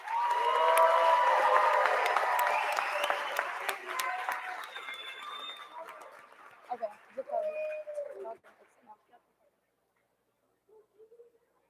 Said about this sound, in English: Let's give this new group of future Heart and Key members a round of applause.